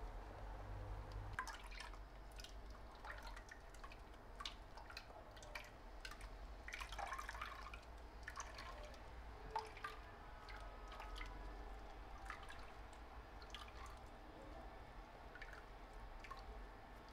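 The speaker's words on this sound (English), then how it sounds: "So I'll be straining the juice to get my" Watermelon juice is strained and drips faintly and irregularly in a quiet kitchen, with soft wet patters and squishes spread over a low background hum.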